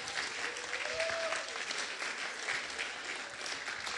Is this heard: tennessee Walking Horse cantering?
no